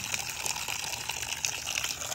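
Water gushing at a park water attraction, a steady bright hiss of rushing spray that keeps a constant level for the whole moment with no voices over it.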